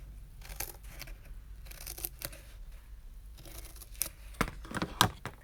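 Scissors snip slits into a cardboard weaving loom, giving irregular crisp cuts and rustles at close range that grow sharper and more frequent toward the end, with no voices.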